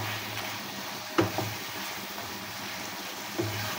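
Winter vegetables and lentil dumplings are stir-fried in a pan, a continuous close sizzle broken by a couple of sharp spatula scrapes or knocks.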